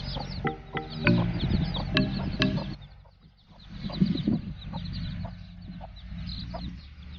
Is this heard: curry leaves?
no